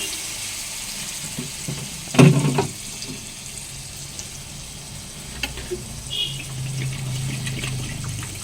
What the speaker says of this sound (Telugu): ఇంకా కొన్ని పడతాయి నీళ్ళు